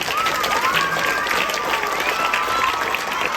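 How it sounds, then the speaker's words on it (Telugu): An audience at a school campus event claps loudly and continuously in sustained applause, with a whistling tone audible over the clapping. "గట్టిగా క్లాప్ ఇవ్వాలన్నారు"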